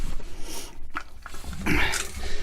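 A happy female dog at a campsite snuffles and chews close by after being given treats, with short irregular snorts and mouth sounds and no talking.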